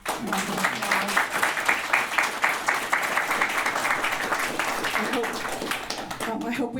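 Audience applause for a panel at a talk on Japanese Americans in Utah, a steady wash of many hands clapping that holds for several seconds before tapering off, with a voice briefly audible near the end.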